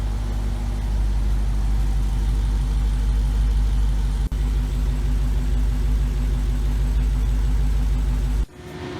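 A Dodge Hellcat supercharged V8 idles steadily and loudly up close after a thermostat replacement, a deep rumbling throb that cuts off near the end.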